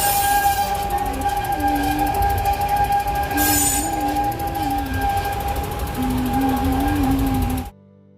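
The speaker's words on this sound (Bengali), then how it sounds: "টয় ট্রেনটা ছাড়বে" A toy train runs on its tracks beside a ropeway in Vizag, a loud, steady close-up rumble with sustained metallic wheel squeal and tonal whine that cuts off abruptly near the end, with no talking.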